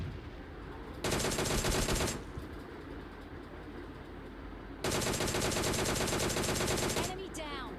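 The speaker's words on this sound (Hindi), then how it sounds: "अब मुझे यहाँ से फायरिंग की साउंड आ जाती है" A DP-28 light machine gun fires in PUBG, two long sustained bursts of rapid, loud automatic shots separated by a pause, followed by a short clatter.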